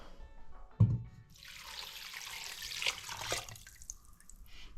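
Liquid from a leftover chicken stew is poured into a pot, making a steady splashing stream of about two seconds after a brief knock, close and moderately loud with no talk.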